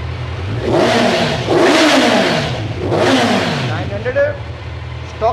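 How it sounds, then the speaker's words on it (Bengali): A second-hand 2023 motorcycle from its first owner, fitted with the stock silencer, revs up close three times in rising, swelling bursts before settling back toward idle. "স্টক সাইলেন্সার আওয়াজ খুব সুন্দর আছে"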